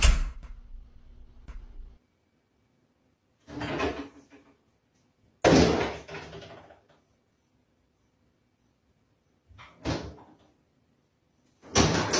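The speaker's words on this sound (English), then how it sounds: "Something began opening doors in his new home." Doors in a house open and close in a series of separate thumps and rattles, several distinct bursts spaced by silent gaps.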